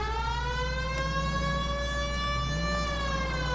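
A loud police siren in L.A. Noire wails steadily, its pitch slowly rising and falling in long sweeps, close and unbroken for the whole stretch.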